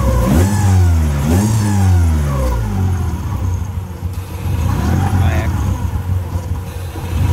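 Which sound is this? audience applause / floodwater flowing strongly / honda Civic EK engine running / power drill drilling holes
honda Civic EK engine running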